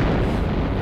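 A loud, rumbling explosion in Tomb Raider 1, a dense low boom that fills the whole moment without letup and with no talk over it.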